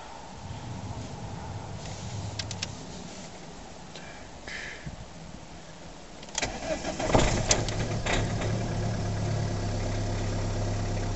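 A car engine cranks and starts with a rough catch just after a vacuum fault, then settles into a steady, fairly loud idle for the rest of the clip.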